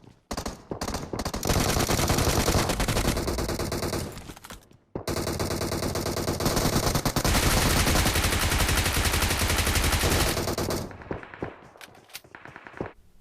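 Automatic gunfire in a shooting video game, with dense, loud bursts of rapid fire and one short pause, then scattered shots at the end.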